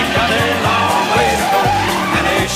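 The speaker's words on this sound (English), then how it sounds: "when I was going around a corner, I was using screeching" Car tires screech repeatedly as a vehicle rounds a corner in a short film, with sharp squeals over a steady engine roar. The squeals come in several rhythmic bursts at close range, with no talk.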